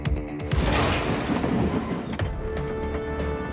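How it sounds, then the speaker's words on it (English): A train rounds the tight Hønefoss bends, its rumbling wheels and clattering cars loud and close, settling into a steadier roll with a faint high squeal toward the end. "The train navigates safely through the Hønefoss bends and powers south."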